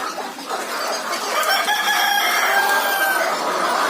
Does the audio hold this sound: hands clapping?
no